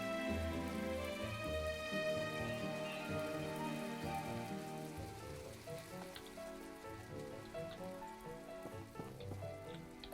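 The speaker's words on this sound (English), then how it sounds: "Shame it's such a rainy day." Rain patters steadily on surfaces in My Time at Portia, a dense, continuous hiss of drops under faint background music tones, with no voices.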